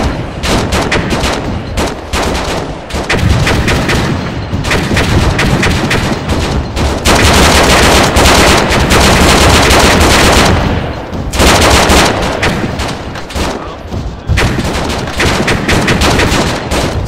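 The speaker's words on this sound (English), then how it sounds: "Everybody, open fire. Full fire." Dense gunfire and machine guns in the military video game Arma 3 with RHS mods, a nearly continuous loud barrage of overlapping rapid bursts that keeps going for the whole stretch, with only brief dips and no talk.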